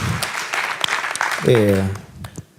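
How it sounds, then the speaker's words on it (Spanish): An audience at a public science talk in Valparaíso claps briefly, scattered hand claps mixed with a voice speaking over them before the room quiets. "les damos un gran aplauso a César"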